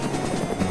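A helicopter in the DayZ video game gives a steady, continuous rotor and engine drone that fills the whole moment at an even loudness, with no voices over it.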